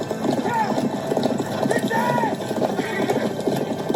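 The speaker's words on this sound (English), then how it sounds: "That's some fantastic horse riding." Horse hooves clip-clopping during a riding scene from House of the Dragon, a quick loud rhythmic beat of a galloping horse layered with a neigh and other voices and sounds of the scene.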